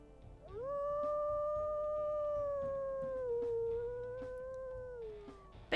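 A single sustained, fairly high-pitched wolf howl from a wolf character in a video game, rising at the start, holding steady for several seconds and slowly falling away at the end, clear and close with no talking over it.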